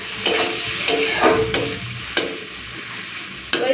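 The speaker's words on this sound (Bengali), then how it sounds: "আর তেল দিচ্ছি না, ওই তেলের মধ্যে দিয়ে দিচ্ছি পেঁয়াজ" Onions fry in oil in a home kitchen for a simple Bengali fish-oil curry, giving a steady broadband sizzle with periodic sharp scrapes and clatters as they are stirred, close and alone with no talk.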